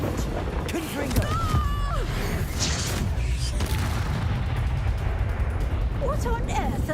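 Confringo blasting spell explosion in the Hogwarts Legacy video game, loud booming blasts over a dense, rumbling battle din, with voices talking throughout.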